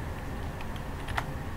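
Keys on a computer keyboard tap in a quick, light run of clicks, close and fairly faint, with a sharper keystroke near the end.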